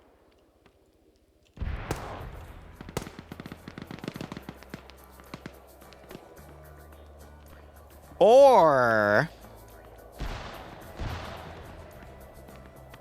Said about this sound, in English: But these are some pretty big explosions going off.